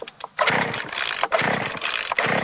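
A Sears Craftsman leaf blower's small two-stroke engine is pulled over and catches, sputtering and revving in loud bursts that briefly dip before roaring again, close up.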